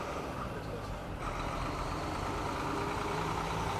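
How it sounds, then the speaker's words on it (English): A big truck passing a street intersection during an outdoor square dedication, a loud, steady engine and road rumble that fills the whole moment and swells slightly toward the end. "Just a big truck going by"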